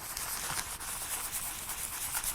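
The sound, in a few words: foam aluminium oxide sanding pad rubbing back of mirror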